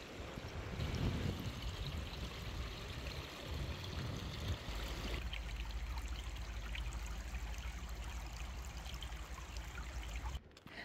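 Steady rush of a river flowing close beside a tent on the West Highland Way in Scotland, a continuous broadband wash of moving water with a deeper rumble in the first half.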